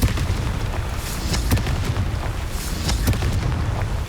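Deep booming blasts from a Confringo fire spell in the Hogwarts Legacy video game, with a sharp burst near 1.5 s and another near 3.1 s over a constant low rumble.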